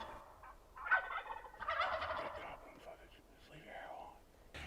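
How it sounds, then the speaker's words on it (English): Wild turkeys gobbling in the field, a few rattling calls of moderate loudness at a little distance, with a soft whispering voice underneath. "these birds still didn't fly, but just simply walked out of the area,"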